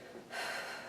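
A person's breath during a slow, controlled fitness workout exercise: a soft, airy exhalation swells up partway through and holds steady, close and quiet with no talking.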